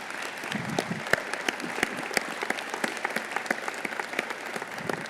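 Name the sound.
audience applause at State of the City event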